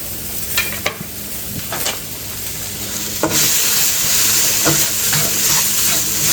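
Aromatics frying in a wok for Cantonese-style shrimp scrambled eggs, a steady close sizzle with bright hiss, broken by a few scraping stirs of the spatula; no one speaks.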